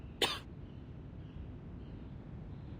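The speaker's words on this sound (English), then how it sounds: "now I cough and splutter just like it does" A single sharp, harsh cough bursts out near the start, close and loud, then fades into a quiet, faintly breezy background.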